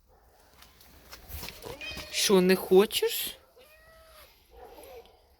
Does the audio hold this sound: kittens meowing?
yes